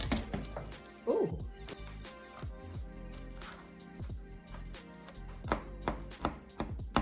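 Four garlic cloves being chopped with a kitchen knife on a cutting board, making close, fast, uneven knife strikes in short bursts with brief pauses between them.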